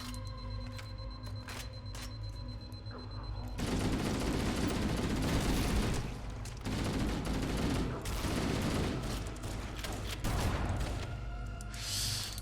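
Dense automatic and burst gunfire in Halo: Combat Evolved, quieter at first, then loud and sustained with brief pauses, mixed with explosions and game effects.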